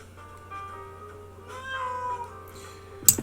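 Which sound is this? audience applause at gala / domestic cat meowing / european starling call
domestic cat meowing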